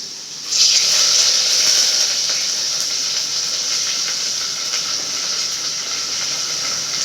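Sliced onions hit hot oil in a pan for a fish curry and set off a loud, steady hiss of sizzling that holds evenly throughout, close up with no talk.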